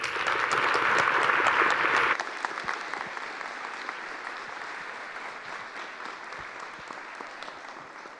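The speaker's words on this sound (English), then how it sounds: "Can we have a round of applause for Debs?" A plenary audience gives a loud round of applause for a speaker named Debs, full and dense at first, then dropping abruptly to a thinner, quieter patter of scattered claps that fades gradually.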